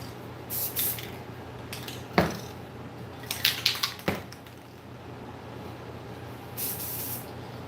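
Bursts of Rust-Oleum 2X Satin Ivory Silk spray paint hiss from a can in a shop, several short sprays with pauses between, over a steady low hum.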